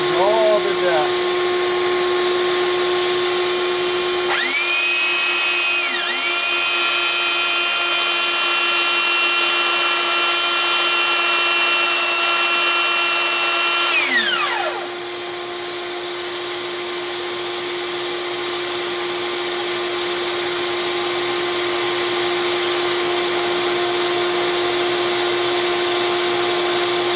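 A sander whines loudly and steadily alongside a homemade dust-collecting suction device used in repairing a Fender Musicmaster bass, with a second motor rising in and cutting out partway through, close and continuous.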